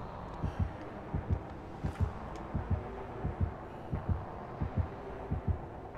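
Rhythmic double-thump heartbeat from the Dead by Daylight video game, pulsing steadily and fairly loud over a low ambient hum, with no voices.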